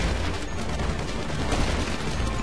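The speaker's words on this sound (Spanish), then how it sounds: "¡Uy, tres balazos!" Rapid gunfire from GTA 5 Online during a Pacific Standard heist mission, a dense, continuous crackle of shots with no clear gaps, loud and close throughout.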